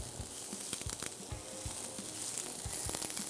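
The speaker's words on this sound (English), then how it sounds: "I have a nice hot pan here. And then we're going to add some minced onions." Minced onions sizzle in a hot pan with a faint, even hiss, punctuated by soft low thuds and light taps from the pan or utensil.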